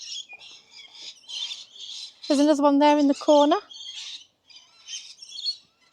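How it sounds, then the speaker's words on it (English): Lorikeets, colourful parrots in a zoo enclosure, give shrill, harsh squawking calls in short repeated bursts over about a second, fairly close, with a person speaking briefly before and after. "You've got some absolutely gorgeous, beautiful parrots here. Parakeets, no, lorikeets they're called"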